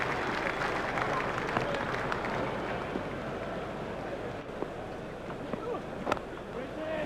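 Steady crowd applause and cheering in EA Sports Cricket 2002 during a World Cup match between India and Kenya, a continuous even roar of clapping that holds for several seconds.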